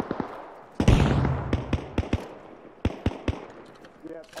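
In the military shooter Arma Reforger, a grenade blast at a tent lands as a sharp bang, then a string of crisp gunshot-like cracks and pops follows, with voices talking over the action.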